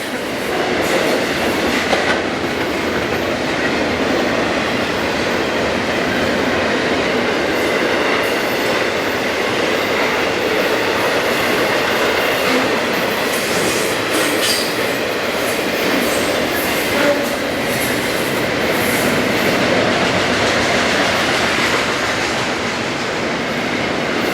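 A long intermodal freight train rumbles steadily past close by, a continuous roar of rolling cars with clattering wheels and occasional faint squeals.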